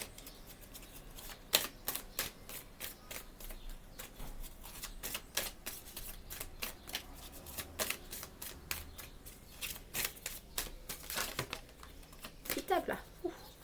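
Tarot cards being shuffled and drawn by hand, with a steady run of crisp, close snaps and riffles spread across the whole stretch, some sharper flicks standing out, and faint background room noise.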